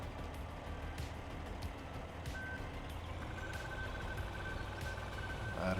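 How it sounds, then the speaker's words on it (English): Steady, evenly spaced electronic beeps repeat over a constant low engine hum, like a large farm vehicle's warning signal, in Farming Simulator 15. "I don't know why it's beeping like that."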